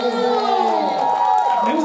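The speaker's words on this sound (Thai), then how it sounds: "ปรบมือให้น้องด้วย" Audience cheering and clapping at a Pantene fan meeting event at Eastin Grand Sathorn in Bangkok, a lively crowd roar with shouts, a voice speaking over it.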